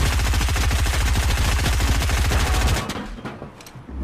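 Rapid automatic gunfire in a video game, loud and close, with a fast steady burst of shots running for nearly three seconds before cutting off into quieter game ambience.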